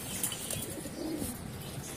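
Fighting pigeons coo softly in a low, steady murmur, with faint chirps and rustling against a continuous background hiss.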